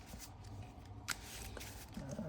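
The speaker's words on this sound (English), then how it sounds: "All right, that's good and shuffled." A deck of Marvel Champions cards being shuffled up close, with a steady riffling rustle through most of the stretch, one sharper snap partway through and no talking.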